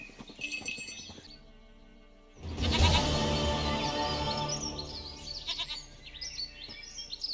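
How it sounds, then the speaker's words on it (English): A goat in the video game The Witcher 3 bleats loudly and near for several seconds, a long wavering cry that follows a short burst of game sounds, then fades into faint ambient chirps. "Goat of mine, dearest, sweetest goat."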